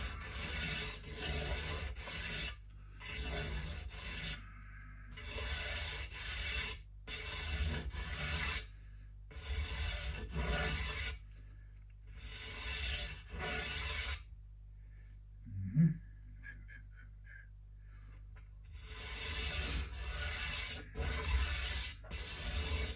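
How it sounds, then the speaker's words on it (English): Sanding down an oversized part during an Encore Strat guitar refurbishment, quiet rhythmic back-and-forth rasping strokes in bursts, with a pause and a small knock midway. "So what we'll do is we'll sand this down a bit here."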